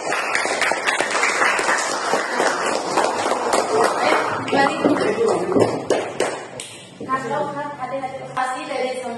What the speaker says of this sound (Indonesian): Baik, beri aplaus untuk kelompok 2.